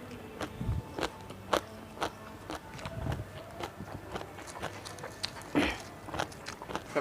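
Close, soft chewing and crunchy bites while eating Thai som tam papaya salad with khanom jeen rice noodles, irregular mouth clicks and munches over a quiet room.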